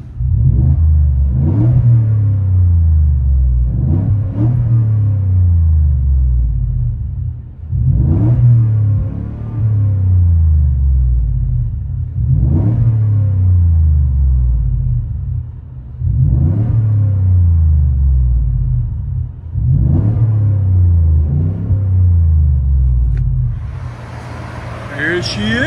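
A 2024 Ford F-150 with a 5.0L Coyote V8 and Borla XR-1 Sportsman exhaust revved repeatedly, heard from inside the cab: about seven loud rising blips each falling back to a deep rumbling idle.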